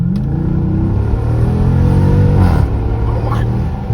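Jeep SRT with resonators removed and exhaust valves open, revving loud and close, a deep throaty engine note climbing in pitch and then dropping back, rumbling steadily underneath.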